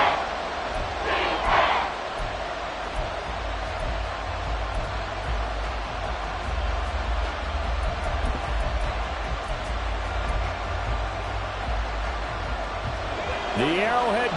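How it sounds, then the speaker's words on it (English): Football crowd at Arrowhead stadium during a Chiefs vs Jets game, a dense, sustained roar filling the stadium throughout with a steady low rumble and bursts of cheering. "The Arrowhead crowd in full roar."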